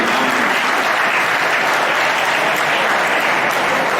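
An audience at a school farewell for Std 10 and 12 students claps for the teachers and principal, producing loud, steady, sustained applause from a crowd throughout.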